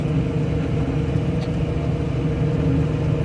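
A potato planting machine runs in a field with a constant, loud, low mechanical rumble and engine drone, steady without breaks, close by and with no talk.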